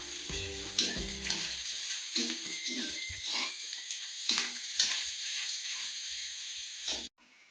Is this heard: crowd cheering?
no